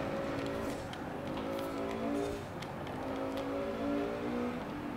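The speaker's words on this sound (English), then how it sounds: "Oh, it's a car. Didn't even notice it." Race car engine droning and shifting pitch in a racing video game, a steady loud whir with another car passing, no talking.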